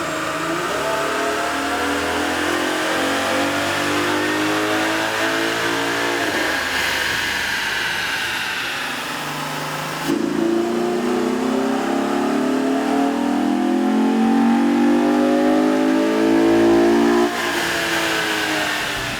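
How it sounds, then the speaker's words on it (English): A Chevy Camaro 3.6L V6 engine with an aftermarket air intake revs repeatedly on a dyno, rising and falling in pitch, loud and steady with no talking, ending with a sharper high rev. "we ran the vehicle on the dyno to test the sound comparison versus the stock intake"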